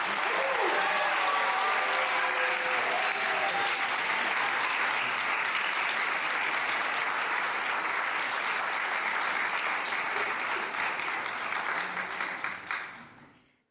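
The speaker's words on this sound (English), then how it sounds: "So please, a round of applause for Keisha." Sustained, dense applause from a large audience at an awards ceremony, loud and steady for over ten seconds with a few voices and a brief cheer near the start, then fading out at the end.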